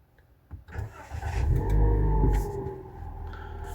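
A hot Daihatsu Sirio car engine cranks briefly, catches with a loud rising roar, then settles into a steady rumbling idle close by.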